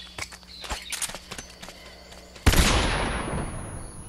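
In Metal Gear Solid 3, soft footsteps come first, then a flashbang grenade goes off once with a sudden, loud bang and a long hissing, ringing tail.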